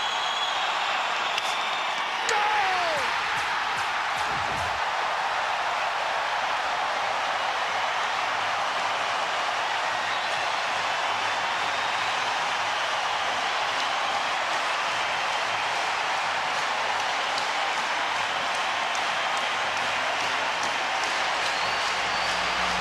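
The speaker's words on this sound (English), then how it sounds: "Listen to this crowd." Hockey arena crowd during a tied penalty shot at a Gophers–Wisconsin men's game, a steady, loud roar of cheering and noise filling the building throughout, with no clear lulls.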